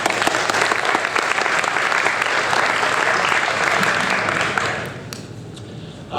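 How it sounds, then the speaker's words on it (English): Enthusiastic audience applause at an awards ceremony, the 5th Annual WRLR 98.3 FM Geo Awards, loud and sustained for about five seconds before tapering off into a few scattered claps. "So an applause for Amber as well."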